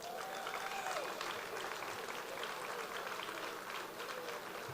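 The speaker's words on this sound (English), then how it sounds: "but give them a round of applause" Outdoor crowd applause at a street cultural wall unveiling ceremony, soft steady clapping heard from a distance, continuous throughout.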